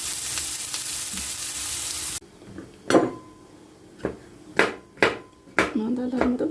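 Vegetables sizzle and fry in a hot pan, with a few sharp clanks of a utensil stirring against the pan and a voice briefly heard.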